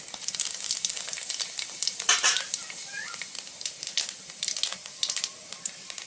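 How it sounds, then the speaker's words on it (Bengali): Panch phoron whole spices crackle and sizzle in hot oil before radish greens are added, a fine crisp spitting with scattered pops and a brief brighter burst, steady and close. "ফোড়নে দিচ্ছি 5 ফোড়ন।"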